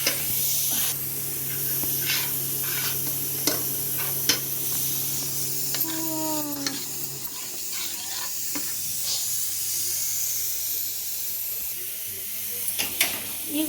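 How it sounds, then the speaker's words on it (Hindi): Onions, tomatoes and masala frying in a pan in a home kitchen, a soft steady sizzle and hiss with occasional stirring clinks and faint background tones. "मेरी प्याज टमाटर सब पक गए और मैंने इसमें मसाला डाल दिया है।"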